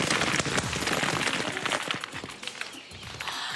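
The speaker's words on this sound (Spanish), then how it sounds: "Lluvia de pelotitas blancas." A cartoon sound effect of little white balls raining down, a dense, loud patter of many small hits like heavy rain that thins slightly toward the end.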